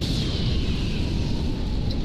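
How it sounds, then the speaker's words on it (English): Explosion magic from an anime detonates in a sustained, roaring blast of broadband rumble that stays loud and dense for about two seconds, with no voices over it. "So he does like explosion magic?"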